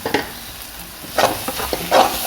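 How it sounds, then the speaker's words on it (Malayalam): Tomatoes sautéing in a pan for fried chicken dum biryani give a close, steady sizzle broken by several louder stirring scrapes and clatters, with no talking. "പച്ചമണം മാറി വന്നപ്പോൾ നമുക്ക് തക്കാളി ഇട്ട് കൊടുത്ത് നന്നായിട്ടൊന്ന് വഴറ്റിയെടുക്കാം"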